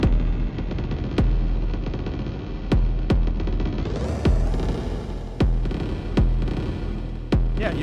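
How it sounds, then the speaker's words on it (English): An EarthQuaker Afterneath Eurorack delay and reverb module sends a droning, hum-laden wash punctuated by sharp repeating clicks at an irregular pulse, with a swelling brightness midway through. "The Afterneath is both a delay and a reverb."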